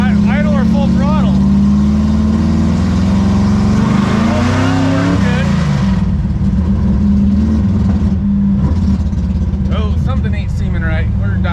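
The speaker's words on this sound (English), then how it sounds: "That kind of stuttering and cutting out, that's because it's not idle or full throttle." A pro street 1957 Chevy sedan delivery engine runs loud and close, stuttering and cutting out as its note sags and surges unevenly between idle and full throttle.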